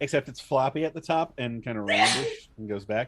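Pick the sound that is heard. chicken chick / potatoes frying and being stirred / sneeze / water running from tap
sneeze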